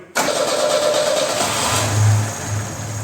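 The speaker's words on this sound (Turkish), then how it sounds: "Bakın motorumuz bu şekilde Benzinde gazda saat gibi çalışıyor artık." A Lada Niva engine on petrol cranks and catches, then runs steadily at a close, loud idle with a brief rise in revs, with no talking over it.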